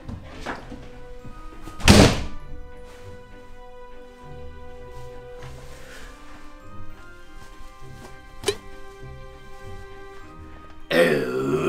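A door shuts with a heavy thud in an animated Christmas story, followed by a later sharp knock, set against steady background music.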